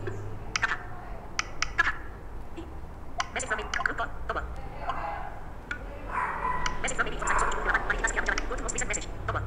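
Quick clicks and taps come from typing on a smartphone that has a screen reader switched on. The taps fall in uneven bursts while a voice speaks almost the whole time.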